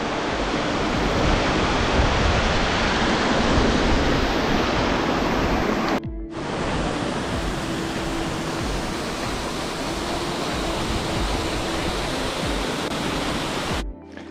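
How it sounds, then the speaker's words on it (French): The cascade d'Ars, a mountain waterfall, pours as a dense, continuous roar of rushing water heard up close, with two brief cuts in the sound along the way. "Voilà, donc la cascade d'Ars, elle est là."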